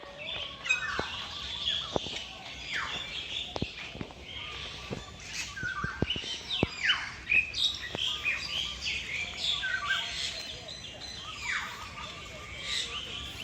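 Many birds call and chirp in a bird park at TMII, Jakarta, with overlapping tweets and sharp calls scattered throughout, and people talk faintly in the background.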